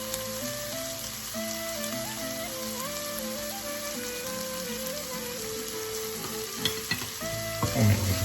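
Shakshuka sizzling steadily in a frying pan as it is stirred, a dense continuous crackle with a few louder scrapes near the end and no talking.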